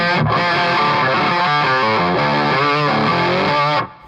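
Electric guitar played through a Reeves Electro distortion pedal, loud and saturated, with sustained fuzzy chords ringing continuously for several seconds before cutting off abruptly.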